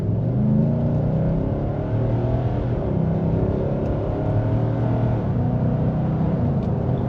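A 2023 Nissan Titan Platinum Reserve pickup's engine pulls through traffic as a steady, full, low rumble with a rising tone. It stays loud and close for the whole stretch, with no talk over it.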